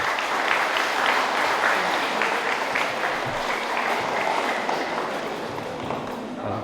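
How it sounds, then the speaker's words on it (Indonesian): Wedding guests in a church parish clap together in sustained, dense applause that stays steady and fairly loud throughout, with faint crowd murmur underneath. "Kita tepuk tangan untuk"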